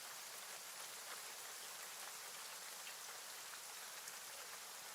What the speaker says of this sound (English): As you exit, it's still raining.